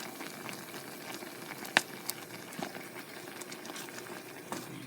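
Homemade cranberry sauce boiling in a pot on an old stove, a steady bubbling simmer with scattered small pops and one sharper burst, close and moderately quiet.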